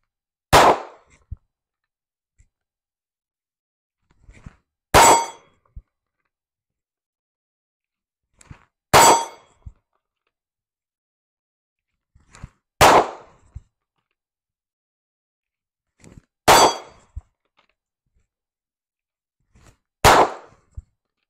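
Six sharp, loud pistol gunshots ring out alone at evenly spaced intervals of about four seconds, each preceded by soft rustling and clicks of the pistol being drawn from a holster.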